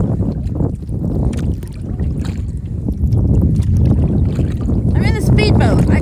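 Wind blows steadily across open water during a kayak outing near a cove, a loud, constant rumbling gust noise buffeting the microphone throughout, with a brief high chirping sound near the end.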